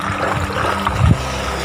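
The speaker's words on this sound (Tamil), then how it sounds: "இந்த ஓட்டை வழியாக தான் மாடியில் உள்ள தண்ணியெல்லாம் போகுது." Rainwater draining from a terrace through a hole in a rainwater harvesting setup, a continuous close trickling, rushing flow with a slight gurgle near the end, no voices.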